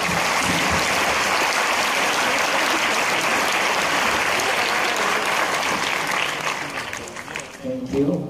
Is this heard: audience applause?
yes